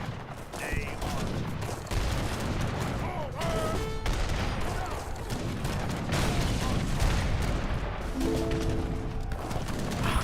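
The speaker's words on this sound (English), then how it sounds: "Fucking Portuguese mortars." Portuguese mortars fire in the strategy game Age of Empires III, heard as muffled booms and crashes within a continuous loud battle din, with scattered tonal game effects and a voice now and then.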